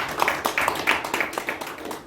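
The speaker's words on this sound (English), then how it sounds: "Give them a good round of applause." Audience at a Toastmasters club meeting applauding the evaluation session, a short burst of brisk, uneven hand clapping from a small group in a room, fairly close and steady for about two seconds.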